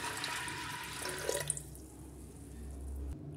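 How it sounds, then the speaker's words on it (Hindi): Water pouring into a pot for dal makhani, a steady rushing flow running for about three seconds, fairly close and moderately loud, then stopping abruptly. "4 कटोरी के बराबर पानी डालेंगे"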